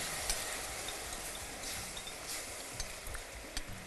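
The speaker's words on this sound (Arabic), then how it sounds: "هقلب كده السكر" Sugar and water stirred in a pan while making flour halwa, a steady scraping stir with soft sizzling under it and a few sharper clinks of the spoon, close and fairly quiet throughout, no voices.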